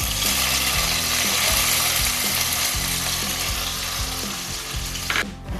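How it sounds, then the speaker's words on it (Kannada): Green chillies and onion fry in a pan for a banana flower palya, with a strong continuous sizzle and regular scraping strokes of a spatula against the pan, close and loud, with no talking. "ಹಸಿರು ಮೆಣಸಿನ್ಕಾಯಿ ಹಾಕ್ತಾಯಿದ್ದೀನಿ ಮತ್ತು ಈರುಳ್ಳಿ ಹಾಕ್ತಾಯಿದ್ದೀನಿ"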